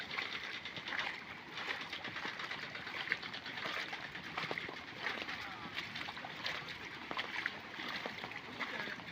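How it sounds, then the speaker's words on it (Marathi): Floodwater rushes steadily through a channel beside rice paddies in a flooded Konkan farm field, a continuous dense roar of churning water with no pauses, fairly close and loud throughout. "पाणी बघ म्हणजे पाणी बघ कसलं वाहतंय, सॉलिड आहे एकदम"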